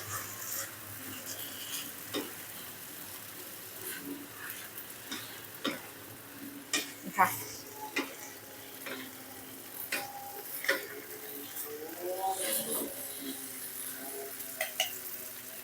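Glass noodles with egg, cabbage and wood ear mushrooms stir-fried in a pan, giving a steady low sizzle broken by scattered scraping and clinking knocks of the spatula, fairly close and moderately loud, with no talk.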